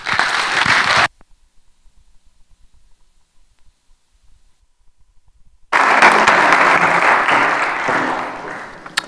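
A crowd at a Snow College convocation claps loudly to welcome a speaker. A burst of applause opens the moment and cuts off into near silence, then a second long round of clapping swells and slowly fades.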